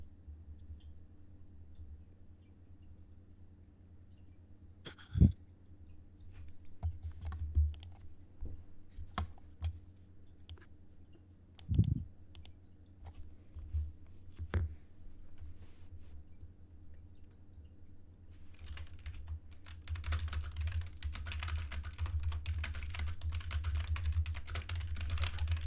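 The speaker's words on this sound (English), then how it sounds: "Sorry, I'm typing." Computer keyboard typing in a series of soft, irregular clicks and taps with a few sharper keystrokes, heard fairly close over a low steady hum, with no talking.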